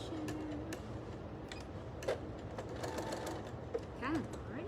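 A sewing machine back stitching a fabric wine bag, soft rapid mechanical ticking in short bursts, fairly quiet, with brief voice sounds in between.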